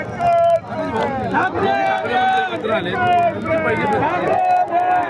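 Shiv Sena and MNS party workers celebrate together in a loud, dense crowd, with overlapping voices, shouts and cheering forming a continuous babble close by.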